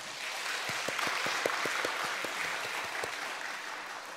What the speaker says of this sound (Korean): 감사와 찬양의 박수 올려드리겠습니다